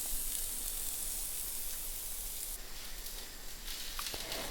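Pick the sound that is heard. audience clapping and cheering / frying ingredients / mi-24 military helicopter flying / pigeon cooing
frying ingredients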